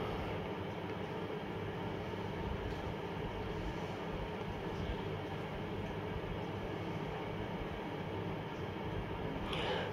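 Inside a cabin of a moving passenger train, a steady, dense rumble and rattle continues without a break, with no one speaking.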